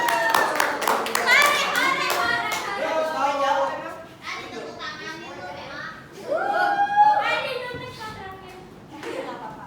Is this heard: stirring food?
no